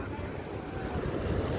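Seawater rushes through a freshly cut sandbar at the Omanappuzha river mouth, a steady, loud roaring surge that is mixed with wind buffeting the microphone.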